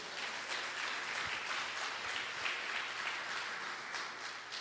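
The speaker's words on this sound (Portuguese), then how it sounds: "Pode dar uma salva de palmas, Jesus?" A church congregation gives quiet but steady applause during a service, a continuous wash of clapping heard at a distance with no one speaking over it.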